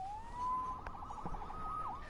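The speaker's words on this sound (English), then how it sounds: "Saved by the siren." A police car siren wails in a rising and falling tone, moderately distant over a faint background with a couple of brief knocks mixed in, in a Spider-Man episode scene.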